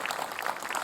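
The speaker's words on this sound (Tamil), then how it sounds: "குழந்தைக்கு ஒரு பெரிய கைத்தட்டல் கொடுக்கலாங்க." Applause from a studio audience for a child contestant on a Tamil kids' fun show, steady dense clapping filling the short moment at moderate loudness.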